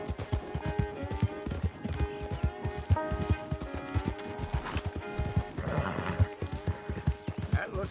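Rapid, steady clip-clop of horse hooves at a gallop in the video game Red Dead Online, loud and close, with music-like tones running underneath throughout.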